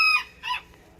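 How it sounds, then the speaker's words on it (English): Quail in a hay-lined outdoor enclosure after a cold snap: two short, sharp, high-pitched calls close by, the first clear and whistled, the second a quick rougher chirp, then near silence. "The quail are doing amazing."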